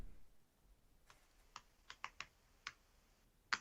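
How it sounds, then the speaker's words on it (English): Sparse keystrokes on a computer keyboard, about eight separate clicks spread irregularly over a few seconds, quiet and close, with no talking. "I'm typing this in the chat."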